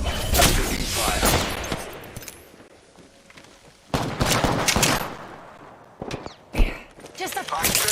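Gunfire in the video game Apex Legends: loud, dense bursts of shots crackle in clusters, fading to a quieter lull and then returning with sharp volleys and single cracks, while in-game voices speak over the action.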